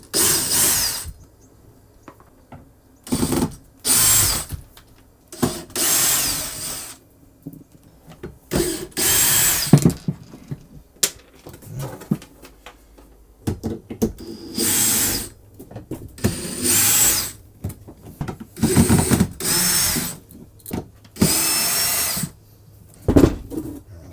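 A power tool drives out fasteners while bed panels are removed inside an RV, giving many short, close whirring bursts with ratcheting clicks, broken by brief pauses.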